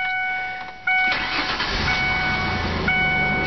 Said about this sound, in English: Let's hear it run.